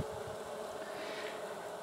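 Honey bees buzz steadily around the entrance of a hive built inside a gas tank, a continuous low drone close to the microphone with faint wind noise behind it.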